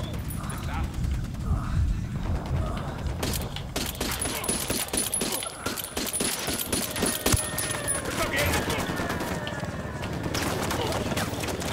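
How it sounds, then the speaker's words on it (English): Bursts of automatic gunfire from the Ghost Recon Wildlands video game crackle in rapid rhythmic volleys, loud and dense, over game voices and shouting. "Opening fire."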